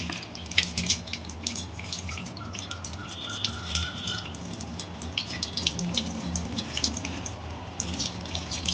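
Mutton pieces being washed by hand in water for a thonjal gravy, with steady splashing, dripping and sloshing close by, running continuously without talk.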